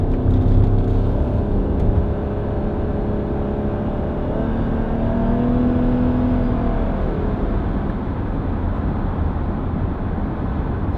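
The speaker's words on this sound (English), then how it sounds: "there we go, we'll just get going, and of course the engine comes in there." A Lexus RX 450h hybrid's engine hums steadily with a low, smooth drone through its CVT gearbox, rising slightly in pitch as the vehicle pulls away, with no talking.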